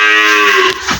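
A buffalo gives a single loud, close moo lasting nearly a second, with a rich harmonic tone that drops off sharply near the end, with no talking over it.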